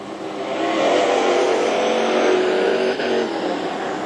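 AMCA national race cars at Carina Speedway, a loud, dense engine roar from several cars lapping together, steady and sustained with a slight dip near the end.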